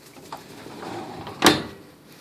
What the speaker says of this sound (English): And here's my top drawer.